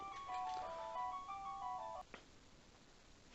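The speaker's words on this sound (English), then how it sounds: "just disregard the fact that the phone just rang" A telephone rings in a quiet room, a short melodic electronic ringtone of repeating tones that stops abruptly, followed by faint background noise and a click.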